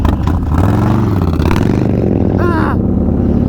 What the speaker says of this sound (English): Erick's first thoughts and impressions on riding the 2020 Harley-Davidson Low Rider S with the Stage 4 131 Goldzilla.